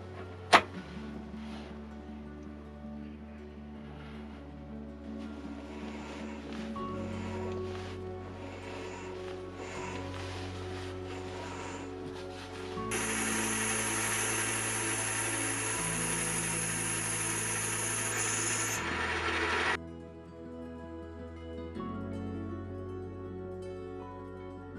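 A metal lathe roughs a workpiece to size with it supported on a centre: a steady mechanical whine and hum with a sharp click at the start, then a louder bright cutting hiss for several seconds before it drops away.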